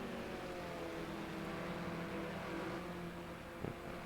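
A BMW 320 E90 in a sim racing video game holds a steady, faint engine drone with little change in pitch, a brief bump near the end.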